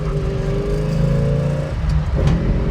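A 1966 Ford Fairlane 500 with a 390 V8 pulls away, its engine note rising steadily then dipping, heard from inside the car at moderate loudness with no voices.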